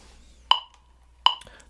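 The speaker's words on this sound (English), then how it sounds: "So with the metronome, it sounds like this." A metronome gives two sharp, evenly spaced clicks about three quarters of a second apart, close and clear, with quiet between them.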